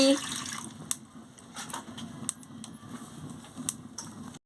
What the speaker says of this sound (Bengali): এবার আমি পরিমাণ মতন জলটা দিয়ে দিচ্ছি।